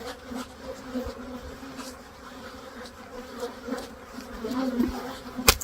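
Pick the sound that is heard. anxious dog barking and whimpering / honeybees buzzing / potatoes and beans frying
honeybees buzzing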